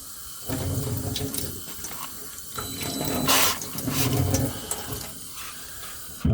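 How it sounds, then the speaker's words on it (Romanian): A water tap runs steadily into a sink beside a Gy6 150cc four-stroke scooter engine being rebuilt, a close hissing splash that swells and fades in a few surges and carries on alone. "Stați că trebuie să-i punem puțin apă."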